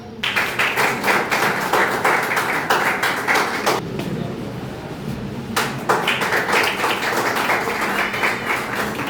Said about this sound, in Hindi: ये अपने सहपाठी के लिए दिल से बजाई गई तालियां हैं